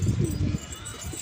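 Domestic pigeons released from their loft coo in low, throaty bursts, loud and close for the first half, then softer murmurs follow amid faint background noise.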